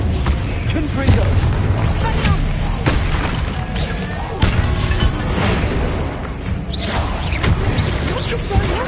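Confringo fire spells blasting in the Hogwarts Legacy video game, a string of booming explosive impacts and whooshes over a dense game soundscape, with a voice talking across them.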